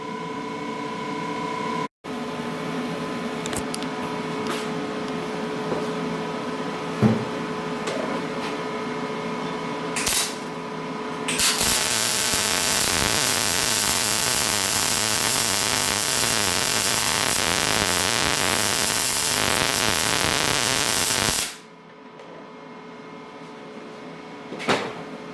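A Lincoln Power MIG 210MP welds 2-inch square steel tube with 1/8-inch wall on automatic settings: a loud, even crackling hiss runs for about ten seconds after a steady machine hum and a few clicks, then stops.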